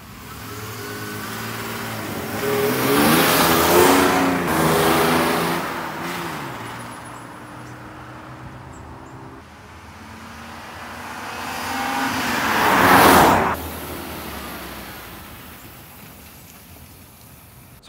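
A car from Spain taken out for a quick spin on the road, its engine swelling and revving twice with loud passing rumble, broadband road noise throughout, no talking.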